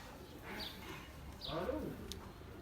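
Fancy pigeons at home give soft, low coos in two short bursts, fairly close, with faint background noise and no talk.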